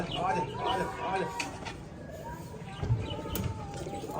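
Pigeons cooing softly in a village at dusk, faint intermittent calls under nearby talk and ambient noise.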